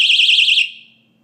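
A Vigilant PPS-17 130dB personal alarm blares a loud, piercing warbling siren up close, then abruptly stops and its ring fades out within a second.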